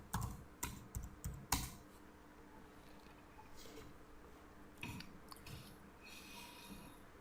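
Keys clatter on a computer keyboard as a web address is typed, a quick burst of clicks near the start and a few more taps later, close and moderately loud with no talking.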